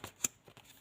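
Tarot card drawn from a deck: a few soft papery card slides and taps, one sharper flick near the middle, quiet and close with no talking.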